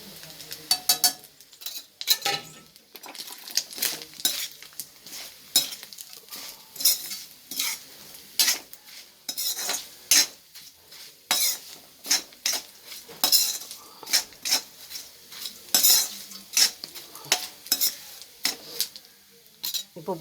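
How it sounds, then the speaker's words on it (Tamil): Nethili anchovy dry fish fry in a pan, a spoon scraping and clinking against the metal in quick repeated strokes over a soft sizzle. "இந்த அளவுக்கு ஃப்ரை ஆகிடுச்சா, இப்போ கொஞ்சமாக தனி மிளகாத்தூள் சேர்த்துக்கலாம்."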